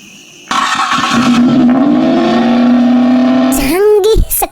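An old, run-down car engine sputtering and stalling, then revving in a steady drone before coughing and dying out again, loud and close with no talk.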